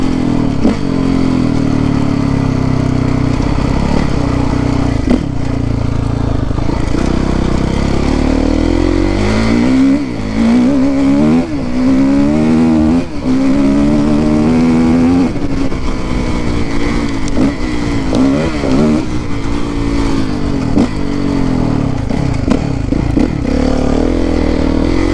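A Kawasaki KX450F dirt bike engine roars loudly and close while riding, its pitch rising and falling through repeated revs and gear changes in a continuous rough drone.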